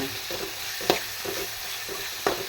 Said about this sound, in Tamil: இது கொஞ்சம் நல்லா குழஞ்சி வர்ற அளவுக்கு வதங்கணும் இது கொஞ்சம் வதங்கட்டும்